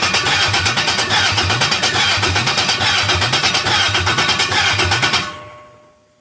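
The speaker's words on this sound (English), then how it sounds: "That one is the motor turning over, wasn't getting any fuel" An engine cranks over repeatedly without catching because it gets no fuel, a loud, close, rhythmic churning of the starter that runs steadily for about five seconds and then winds down to silence.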